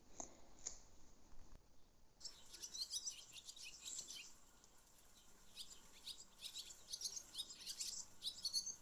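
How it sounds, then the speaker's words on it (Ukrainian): A swallow twitters in a quick run of soft, high chirps, faint and fairly distant, continuing steadily after a quiet start. "Так, це ластівка."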